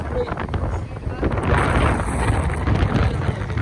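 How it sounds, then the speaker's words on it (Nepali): Strong outdoor wind buffets the microphone, making a loud, continuous low rumble and roar that swells slightly midway through. "एकदम हावा चलिरहेको छ त्यही भएर म कसरी बोलिदिउँ यहाँ होइन बोल्दाखेरि नि माइक नोइसमा जान्छ होला"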